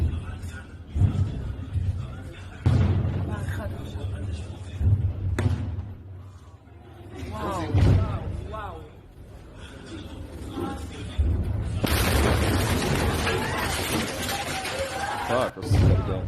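A bomb explodes close to an apartment building in Israel with loud thuds and a crash, then a long burst of chaotic noise as people scream and run, voices shouting throughout.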